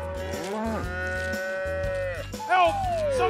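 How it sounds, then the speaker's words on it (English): A cartoon cow lets out a long, loud, drawn-out moo that slides down at the end, followed by the start of a second moo, over a low steady backing. "Whoa, looks like Cow and the baby are here for the food."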